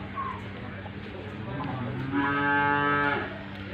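Dairy buffalo on a farm near Arifwala, Pakpattan, lowing in one long, loud, drawn-out moo close by, preceded by a short lighter call, with a faint voice in the background.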